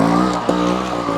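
A Beta Evo 200 trial motorcycle climbs a hill with its engine wound up to a loud, steady, high-pitched drone, heard close and continuous with one small blip partway through.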